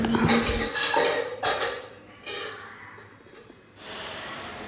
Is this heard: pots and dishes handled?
yes